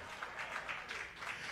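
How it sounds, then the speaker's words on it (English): A church congregation claps together during a sermon, a steady wash of hand claps at moderate distance with no speech over it. "Somebody give God a hand clap"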